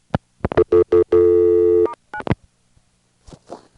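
A series of short touch-tone beeps dialing a call hold code on a 1983-era 1A ESS Centrex line, followed by a long steady recall dial tone, then a few more tones and faint line clicks, loud and close with no talk.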